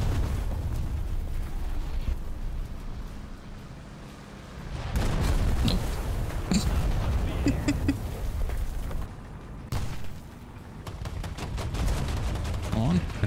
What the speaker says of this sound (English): Oh, artillery fire.